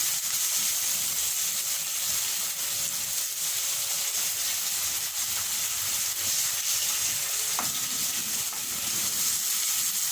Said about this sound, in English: I'm going to stir this around very quickly.